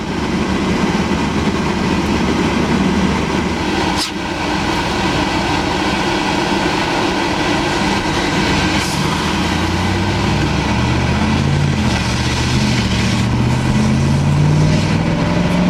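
Chevy Express van with a swapped 6L90E transmission pulling at about three-quarter throttle on a warm test drive, a steady loud engine drone with road rumble, rising tones as it shifts through the gears.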